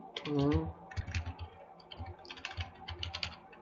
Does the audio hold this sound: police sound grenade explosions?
no